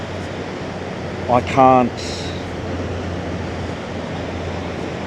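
Ocean waves break on a Gold Coast beach as a steady, broad surf wash running throughout, with someone speaking briefly over it.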